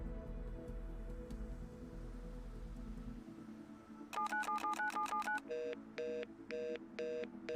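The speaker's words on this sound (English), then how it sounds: "We have a phone call to make." Telephone keypad tones in a role-play video game, a quick run of evenly spaced beeps followed by slower, separated dialing tones after a low background hum cuts out, with no talking.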